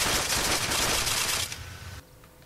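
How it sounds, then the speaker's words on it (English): Gunfire aimed at a building in a video game, a rapid burst of loud crackling shots for about a second and a half, then a quieter tail fading out. "I just shot at the building"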